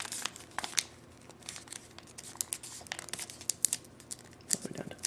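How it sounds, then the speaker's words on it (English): A sheet of paper being folded and creased into a paper helicopter, heard as soft crinkling and sharper crackles close up, with no talk. "Fold it into the middle."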